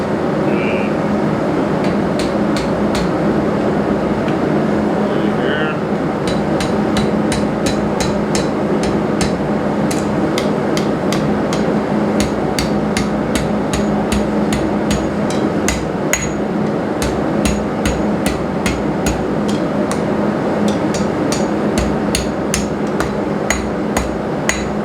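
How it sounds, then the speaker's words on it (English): Hot steel hammered on an anvil while forging a campfire trammel hook: a long run of sharp, ringing blows, sparse at first and then in a fast, steady rhythm, loud and close over a constant low hum. "Now I should be able to close everything up on the anvil."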